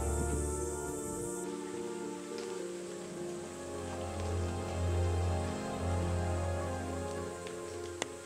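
Rain falling steadily at Gua Pawon cave near Bandung, a soft continuous hiss of drops on surfaces with occasional closer patters, faint and even throughout with no talk.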